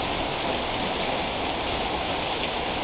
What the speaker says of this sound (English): Pretty good sized hail.